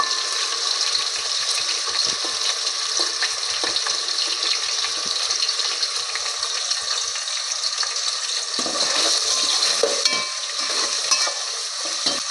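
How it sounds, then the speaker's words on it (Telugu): Onions fry in a pan with bay leaves and garam masala for a vegetable pulao, giving a steady, close, continuous sizzle with occasional stirring scrapes throughout and no talking. "ఇప్పుడు ఆనియన్స్ వేగుతున్నాయి"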